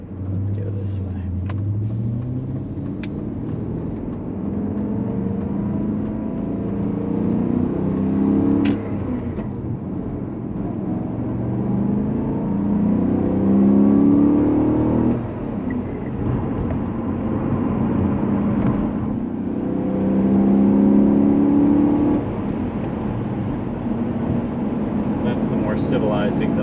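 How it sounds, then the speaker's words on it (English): A 2003 BMW 540i Touring fitted with an S62 V8 rumbles and rises in repeated accelerating pulls, a deep exhaust note swelling and easing, with someone talking over it. "Civilized exhaust note, which has still got its charm, certainly."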